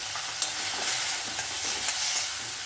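Tomato and coconut being stirred in a hot pan for spicy garlic chutney: a dense, close sizzle with steady scraping stir strokes and faint soft knocks, no voices.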